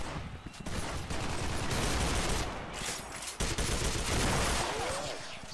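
Gunfire in the video game SKILL during a headshot kill, heard as a dense, continuous burst of automatic shots and game noise lasting several seconds with no talk.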